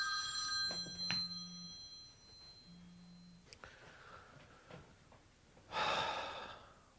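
A telephone rings in two short, faint bursts in a quiet room, followed by soft breathing, small knocks and a louder rustling swell near the end.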